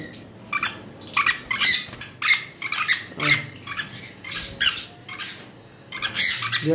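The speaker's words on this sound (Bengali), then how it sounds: "ক্রিমসন বেলি কুনুরগুলা আসলে অনেক বেশি নাচানাচির কারণে দেখাইতে পারতেছি না" Crimson-bellied conures kept for sale give repeated shrill squawks in quick bursts, close and loud, with overlapping calls from several birds and no talking.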